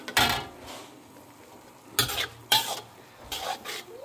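Chopped onion sautéing in a pan for Filipino spaghetti sauce, with a few bursts of stirring and scraping against the pan over a faint, steady sizzle, heard up close with no talking.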